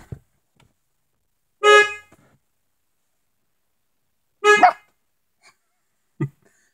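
Two short, sharp dog barks separated by a few seconds of quiet, with a brief low thump near the end.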